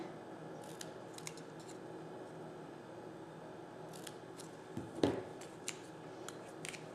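Scissors cut a notch into the end of a sheet of designer paper, making a few quiet snips and one crisp, louder cut that rises above a soft background hiss.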